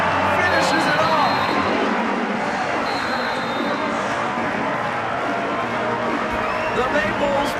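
A large volleyball crowd at Maples Pavilion during a Stanford vs. Utah NCAA women's regional match, a loud, sustained roar of cheering that fills the arena, with a commentator talking over it.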